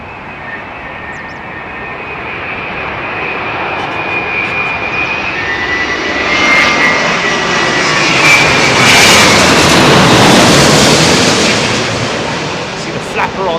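A jet airliner lands on runway 27L at London Heathrow, its engine roar swelling loud and close as it passes overhead, then holding as a broad, sustained rumble with a whining edge.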